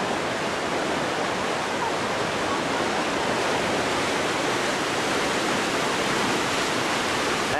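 Darebin Creek in flood at Pound Bend, Warrandyte, Melbourne, pours through a tunnel as a continuous, loud broadband roar of rushing water with no pauses.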